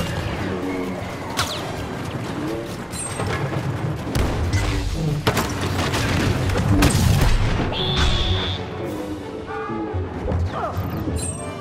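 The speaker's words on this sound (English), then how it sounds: "grenade out!" A grenade blast in Star Wars Battlefront 2 on Kashyyyk, a loud booming crash amid ongoing battle noise, with further thuds and impacts across the stretch.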